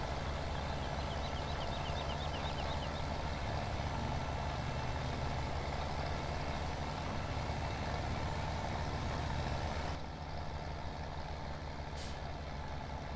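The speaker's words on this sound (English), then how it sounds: "I think I need a heavier tractor." A tractor engine in Farming Simulator 17 droning steadily under heavy load for the whole stretch, a loud, constant low rumble with no talk over it.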